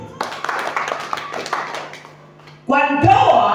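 A church congregation at a sermon on marriage breaks into brisk hand clapping for a couple of seconds, and the clapping fades before a voice speaks over it.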